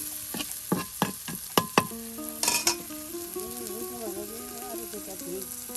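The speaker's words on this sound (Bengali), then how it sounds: "দেখুন অল্প কিছু সময়ের মধ্যে কিন্তু এই যে করলা ভাজি প্রায় হয়ে গেল।" Bitter gourd with green chilies, onion, turmeric and salt fries in a pan in a village kitchen, a steady sizzle under several sharp scraping stirs and clinks, with a faint voice in the background.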